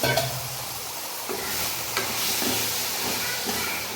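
Eggplant and potato pieces fry in oil for an eggplant coconut curry, a close, steady sizzle with a few clinks and stirring knocks, and no talking.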